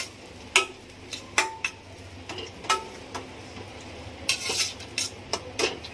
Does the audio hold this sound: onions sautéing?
yes